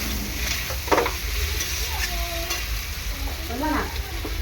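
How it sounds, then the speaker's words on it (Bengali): Snakehead fish curry stir-fried in a pan, a steady loud sizzle of hot oil with scraping stirring strokes of the spoon throughout, close up and with no talking. "তাকে ভালো করে আমি কষিয়ে নেব"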